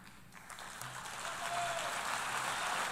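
Distant crowd applause at a political speech on France recognizing Palestine, a soft, continuous wash of clapping that swells slightly over three seconds, heard faintly as if from a broadcast.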